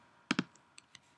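Computer keyboard typing a value into an Android emulator: two close, quiet key clicks followed by a few fainter taps.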